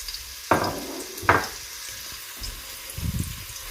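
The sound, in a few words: cooking oil frying in a pan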